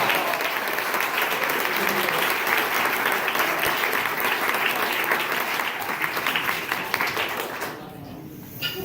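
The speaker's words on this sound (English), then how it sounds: "give them a round of applause" Audience at a magic show breaks into loud, continuous clapping for nearly eight seconds, dense and steady before fading out, with a voice picking up briefly at the end.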